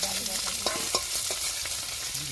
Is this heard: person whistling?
no